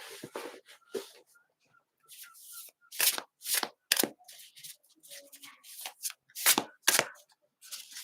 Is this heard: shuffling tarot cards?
yes